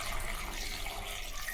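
Water pours into a pot of tomato dal with chillies, chilli powder and turmeric, a steady splashing, gushing stream heard close and continuous.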